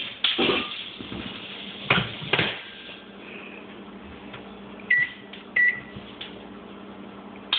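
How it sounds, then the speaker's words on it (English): A microwave oven runs with mustard inside, a steady low hum under a few louder clunks from the door and handling, then short bright beeps near the end. "welcome to mustard in the microwave"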